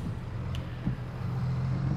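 A car drives past on a rural road in Farming Simulator 22, a steady low engine hum holding throughout at moderate level, with a faint brief tonal blip partway through.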